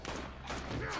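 Gunfire in a scene of The Walking Dead episode "Lockdown", a dense burst of shots filling about a second under a loud, busy soundtrack.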